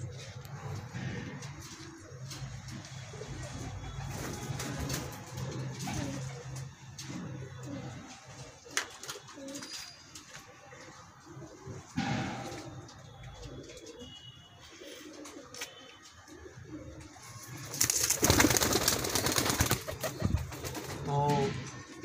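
Pigeons coo in a home loft during deworming, a steady low murmur of calls running through the whole stretch with scattered handling noise and a louder burst near the end.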